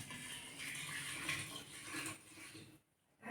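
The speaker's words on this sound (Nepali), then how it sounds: "तातो पानी हालेर" Hot water poured into a pot of churning curd while making homemade ghee and buttermilk, a steady close rushing stream that cuts off abruptly near the end, with a faint clink of the pot.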